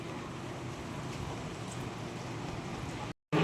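Light rain falls steadily on a wet street, an even, close wash of patter that breaks off briefly near the end.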